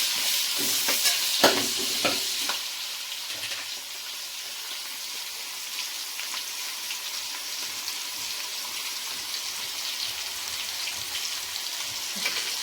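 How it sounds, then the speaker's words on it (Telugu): Onions frying for chicken biryani with green chillies in a pan, a steady broadband sizzle throughout with a few sharper stirring clatters near the start, no talk. "ఆనియన్స్ బాగా వేపాలండి, మంచి బ్రౌన్ కలర్ రావాలి"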